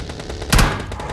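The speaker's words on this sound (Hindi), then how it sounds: "तब एक बंदे ने मेरे ऊपर फायर किया यहाँ पर" A single loud burst of gunfire rings out in a battle royale video game, one sharp close blast that rises suddenly and fades within a moment.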